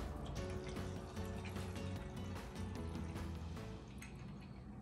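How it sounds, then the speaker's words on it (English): DTF printer ink is poured into a container, giving a quiet, continuous liquid trickle with small drips and splashes, fairly close. "so I'll pour the ink."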